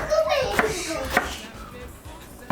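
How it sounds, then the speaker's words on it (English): A knife chops onion on a board with a few separate, spaced cuts, each a crisp close knock. "I know my skills with cutting onion is not that good, but it's doing the job"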